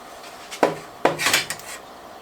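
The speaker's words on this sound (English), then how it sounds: "I'm just going to take my peppers and put them in my half-gallon jars" Freeze-dried Hatch peppers are set into glass half-gallon jars, giving two sharp, close clinks of glass followed by a short run of lighter rattles and taps, with no talking.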